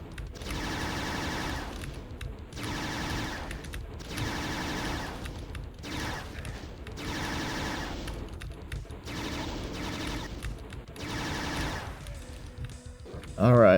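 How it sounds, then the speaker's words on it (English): Bursts of plasma rifle fire from Doom 2 pour at a Spider Mastermind in steady, rapid volleys, about seven long runs separated by short pauses, moderately loud and mechanical, with a louder sound cutting in at the very end. "we're just gonna have to use the plasma rifle for now"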